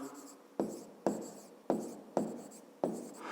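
A pen or pencil writes by hand on paper during a fifth-grade maths exercise, giving five quick scratchy strokes at an uneven rhythm, close and fairly quiet.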